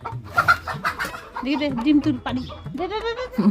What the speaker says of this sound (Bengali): আমাদের বাড়িতে আছে অনেকগুলি দেশি মুরগি